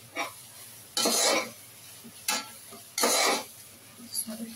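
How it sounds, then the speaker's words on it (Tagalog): A food mixture seasoned with sumac is stirred in a dish, giving repeated scraping, rasping strokes of a utensil, some longer and some brief, close by over faint background hum. "Haluin lang siya."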